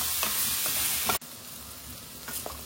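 Carrots and onions frying in oil for a hachis parmentier, a steady broad sizzle with soft stirring scrapes, briefly cut off midway before the frying resumes close up.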